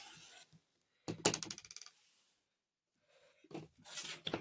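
A rotary cutter rolls along a ruler trimming quilt fabric strips to 2.5 inches, giving a close, crisp crunching cut in a short burst, then a pause and a second rustling pass.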